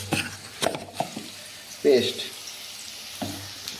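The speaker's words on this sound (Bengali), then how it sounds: "এই এখন আমার আলু কুমড়ো উচ্ছে ভাজা হচ্ছে" Potato, pumpkin and bitter gourd fry in a pan with a soft ongoing sizzle, broken by a few close clacks and scrapes of stirring utensils against the pan.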